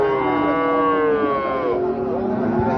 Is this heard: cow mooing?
yes